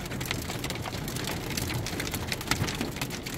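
Hail striking a car during a strong thunderstorm, a dense patter of sharp hits on the bodywork and windshield with a few louder cracks, heard from inside the vehicle at moderate level without talk.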